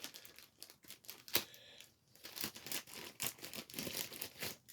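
Scissors snip and slice open a surplus military gear package, a close run of crisp cuts and rustling plastic crinkles with no talking.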